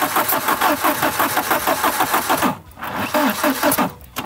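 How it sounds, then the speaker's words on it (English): An old Volvo engine, unstarted for ten years, cranks and sputters into uneven running, with a rhythmic chugging pulse that briefly cuts out, then catches again; loud and close. "I reckon we can get this car started."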